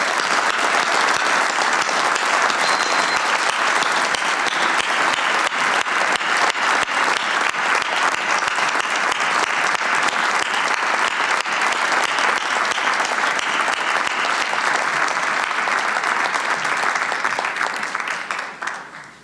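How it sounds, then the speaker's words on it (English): Sustained applause from a town meeting audience in Concord, steady and dense throughout before tapering off at the end. "I invite you all to break our no applause rule."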